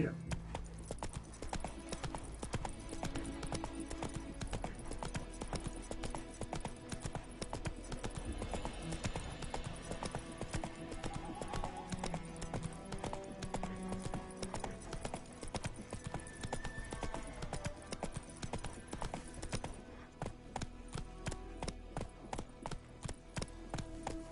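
A horse ridden in the Witcher 3 game clip-clops at a steady trotting rhythm throughout, close and continuous, with a voice speaking over it at times.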